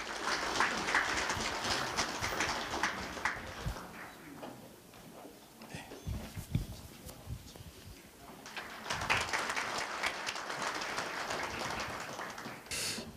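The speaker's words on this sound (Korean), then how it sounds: "모두 큰 박수로 맞이해주시면 감사하겠습니다." An audience at a Korea University graduate school of labor award ceremony and evening event gives a big round of applause for a speaker. The clapping is moderately loud, fades to a quieter patch midway, then surges again.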